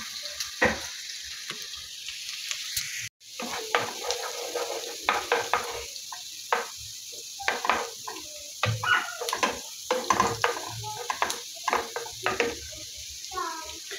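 Omena (dagaa) and onions fry in a pan on controlled heat, giving a steady close sizzle broken by frequent scraping and stirring clatters of a utensil against the pan.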